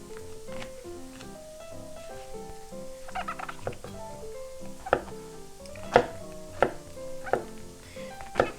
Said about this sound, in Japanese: 椎茸は横に半分にカットしてこんな感じ